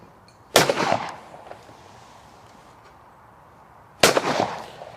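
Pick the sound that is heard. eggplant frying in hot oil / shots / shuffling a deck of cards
shots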